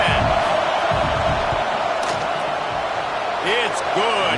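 A stadium crowd roars and shouts during a football field goal attempt, a loud, sustained wash of cheering and yelling with a commentator talking over it.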